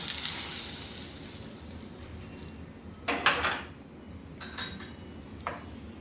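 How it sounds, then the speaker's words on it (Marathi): Hot tempering of mustard seeds, cumin and green chillies poured onto a dish gives a soft, steady sizzle, broken by a few sharp clinks of a pan or spoon near the end. "ही फोडणी आपली तयार झाली. आपण आता ही आपल्या या गोलण्यावरती घालूया."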